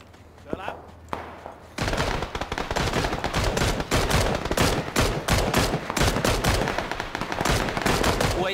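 Sustained automatic gunfire in the battle-royale game PUBG, with an MK14 rifle among the weapons: dense, rapid bursts that stay loud and almost unbroken for most of the stretch after a few quiet isolated shots, with a voice talking underneath.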